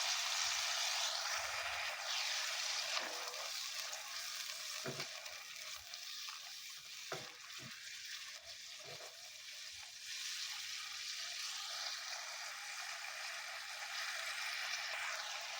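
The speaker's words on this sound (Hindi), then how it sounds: "चिकन और लहसुन अच्छी तरह से फ्राई हो चुके हैं।" Chicken and garlic frying in a pan, a steady broadband sizzle that holds throughout with a few brief clinks or stirring knocks partway through, no talking.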